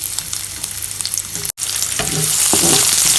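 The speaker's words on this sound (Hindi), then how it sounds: "गाजर ऐड करेंगे" Carrots frying in hot oil in a pan give a loud, steady sizzle, broken by a brief gap midway, then resume with stirring clatter and scrapes.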